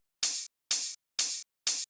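Gritty, harsh-sounding sampled open hi-hat, four evenly spaced bright noisy hits, each sustained about a quarter second before cutting off, heard alone and close.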